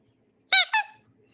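Small squeaky toy lamb squeezed twice in quick succession, producing two loud, high, shrill squeaks close up in an otherwise silent room.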